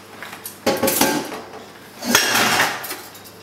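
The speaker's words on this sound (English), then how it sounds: "Okay, I've cooked the potatoes until they're nice and soft, and all we need to do now is mash them up." Soft cooked potatoes being mashed in a pot for tuna patties, two bursts of clattering metal on metal with scraping, close and fairly loud, no talking.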